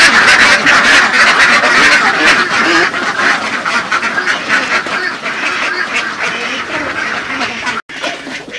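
Many ducks quack loudly and continuously on a duck farm of egg-laying ducks, a dense overlapping chorus close by with a brief dropout near the end.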